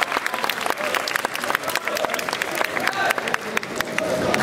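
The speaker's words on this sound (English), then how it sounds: "let's give them a big round of applause for contestants" An audience at a bodybuilding contest claps steadily and fairly loudly throughout, a dense patter of many hands with a voice faintly audible over it.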